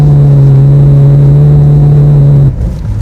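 A Mitsubishi Evo X engine holds a loud, steady drone while drifting sideways under throttle control, then drops off abruptly near the end into rumbling road noise.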